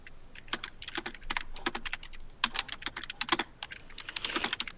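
Typing on a computer keyboard, with steady bursts of quick, light key clicks in uneven runs and brief pauses, close and moderately quiet, with no voices.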